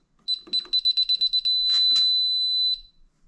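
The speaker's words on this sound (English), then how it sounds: "that quick beeps and then the long beep followed by that meant that that it accepted the code but it couldn't arm" Alarm system keypad sounding a run of about ten quick, bright beeps followed by one long steady beep, loud and close, with no talk over it.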